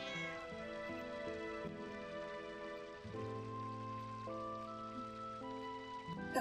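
A cartoonish cat meow from Final Fantasy IX that sits inside steady, continuous game music and carries no distinct separate calls.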